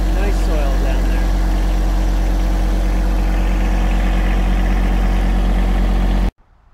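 A John Deere 1023e compact tractor with backhoe and front bucket runs steadily in a garden, a constant low engine drone held near and loud throughout before cutting off abruptly at the end.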